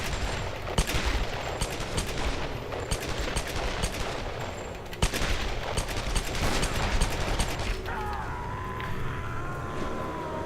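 Repeated gunfire sounds from the Tomb Raider video game, with bursts of rapid shots and single cracks over a steady background of game ambience, at moderate volume with no talking.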